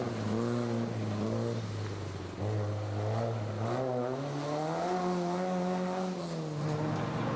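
A Volvo 142 rally car corners at the Legend Boucles de Spa, its engine loud and close, revving up and down through a short lift-off and several gear changes, with tyres squealing faintly beneath the steady roar and no talking.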